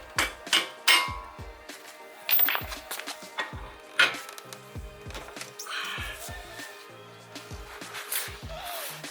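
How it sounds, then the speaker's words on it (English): A CV axle is worked loose from a car's brake assembly, with a series of close metallic clanks, knocks and scraping thuds in irregular bursts, some sharp and loud, others softer rattles between. "So let's get the axle out from this whole entire brake assembly stuff"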